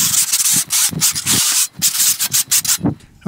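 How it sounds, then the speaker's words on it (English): Sanding a freshly scraped skim-coated wall, a steady loud abrasive rubbing in rhythmic back-and-forth strokes, close up with no talking. "and then we're going to sand it."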